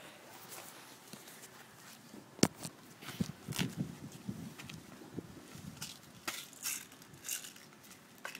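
A slingshot pellet misses an apple and strikes the wood behind it with one sharp, loud crack, followed by quieter scattered rustling and knocking nearby.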